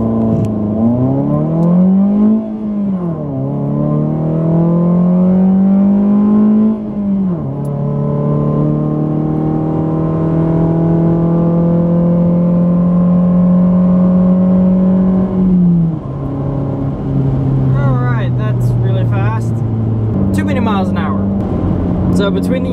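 A 2019 Ford Fiesta SE with air-filter induction and exhaust noise: the engine revs up and falls back, then holds long steady climbs in pitch through the gears, loud and close.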